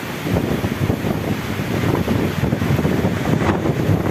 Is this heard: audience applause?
no